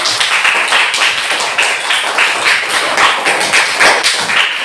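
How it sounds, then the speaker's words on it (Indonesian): Steady applause from a classroom group, dense overlapping claps continuing throughout at a fairly loud level, with no one speaking. "tepuk tangan"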